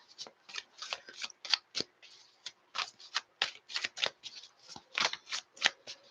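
Tarot cards are shuffled by hand close up, a quick run of crisp riffling flicks and slaps in uneven bursts, fairly quiet with no talk over them.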